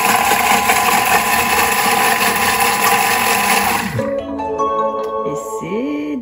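A Thermomix food processor whirs loudly at speed 5, a steady close mechanical drone that winds down after about four seconds into a softer, falling motor tone as it slows to a stop.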